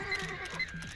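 Rapidash neighing in Pokemon Snap, a couple of short whinnying cries over a steady game soundtrack.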